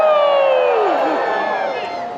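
A crowd at the Dickens Holiday Festival in Fayetteville, North Carolina, erupts in loud, continuous cheering with high whoops and whistles rising above the roar.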